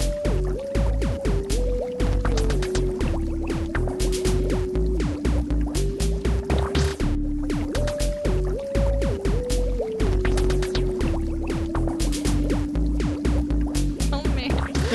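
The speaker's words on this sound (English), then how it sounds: "that's the bubbling waters of the celebration tank." Bubbling water sound effect for a celebration tank, continuous dense gurgling and dripping with a looping tonal melody underneath, loud and steady throughout.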